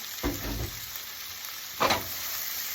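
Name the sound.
tomato sautéing with garlic and onion in pan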